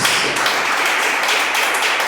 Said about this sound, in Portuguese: dê uma salva de palmas bem linda para Jesus, porque Ele merece